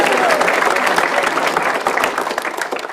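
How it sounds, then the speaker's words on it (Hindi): A comedy roast audience claps loudly and steadily throughout, a dense close wash of applause that eases slightly at the end. "तालियां बजा दो दोस्तों"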